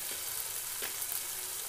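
Ground turmeric and chili powder fry in hot oil, a steady soft sizzle with a couple of faint scrape-like bursts, close and continuous with no talking.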